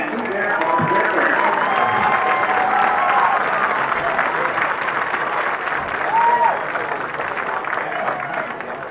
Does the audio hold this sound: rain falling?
no